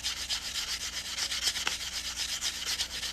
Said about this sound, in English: I'm just sanding the cut edge again, just trying to get it nice and smooth and shiny.